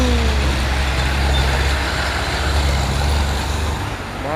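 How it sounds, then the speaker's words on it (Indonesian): A heavy Mitsubishi Fuso truck labours up the steep Bukit Kodok hill road, its diesel engine droning low and loud and close throughout, with a faint tonal whine near the end. "Masuk lagi nih si Fuso, Gosbak dan Super Great Fuso."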